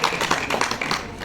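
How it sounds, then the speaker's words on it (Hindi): An audience clapping at a voter awareness event: a brief, dense patter of many hands close by, steady throughout with no voices over it. "जोरदार ताली बजाइए"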